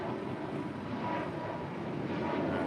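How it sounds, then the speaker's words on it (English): Boeing 777 freighter departing LAX runway 25 left: a steady, broad jet engine roar heard from a distance, constant in level and without voices. "777 freighter. This aircraft's also pretty new. It just delivered in December of last year as well. It's our next departure on 25 left."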